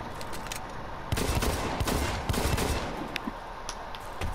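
Rapid automatic gunfire from the video game Blacklight Retribution crackles in dense, continuous bursts with sharper individual shots, loud and busy throughout, without talking.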